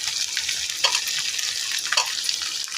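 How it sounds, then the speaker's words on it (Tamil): Mint, coriander and curry leaves sauté in a hot pan, a steady bright sizzle with a few sharper crackling bursts as they are stirred. "புதினா, கொத்தமல்லி, கருவேப்பிலை இதெல்லாம் கொஞ்சம் வதக்கிட்டு அப்புறம் தக்காளியை சேர்த்துக்கிறேன்."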